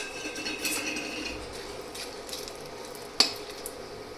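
Whole spices (dried red chilli, bay leaf and cloves) sizzle in hot oil with a steady, soft frying hiss, stirred in a pan, and one sharp metal clink rings out near the end.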